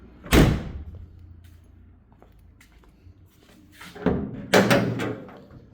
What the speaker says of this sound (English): Hood pops open nicely like it should